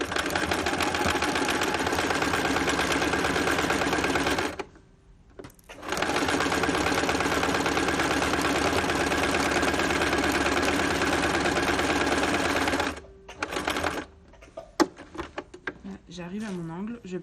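A sewing machine stitches terry cloth for a hot water bottle cover in long, steady whirring runs, broken by two brief pauses, while a voice talks faintly under and after the stitching.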